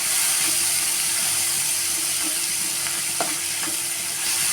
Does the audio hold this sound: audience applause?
no